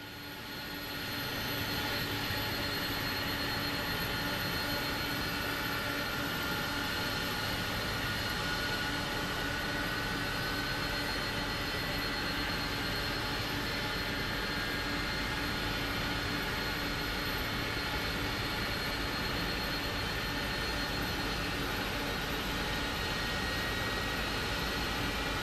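An Airbus A300-600 jet engine spooling up during startup in Microsoft Flight Simulator, a steady, fairly quiet whine and rumble that holds constant throughout with no voices.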